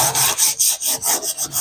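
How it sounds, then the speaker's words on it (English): Steady back-and-forth sanding strokes rasp across a molded fiberglass hood scoop, about eight rhythmic passes in under two seconds, close and fairly loud with no talking. "So we're going to go ahead and sand that up, get it nice and smooth"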